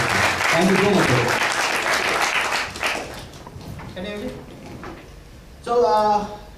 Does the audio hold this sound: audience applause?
yes